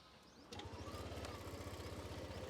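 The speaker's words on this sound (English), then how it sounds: "when I start this Aerox 155, it is a very silent start" A Yamaha Aerox 155 scooter with a smart motor generator starts with almost no cranking noise, then settles into a low, quiet, even idle from its exhaust, close by with faint outdoor background.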